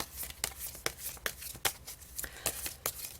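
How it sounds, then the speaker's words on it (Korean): Tarot cards are riffled and shuffled in quick, crisp bursts, about eight sharp snaps in a few seconds, close and clear with no talking. "추가 카드 한번 뽑아볼까요?"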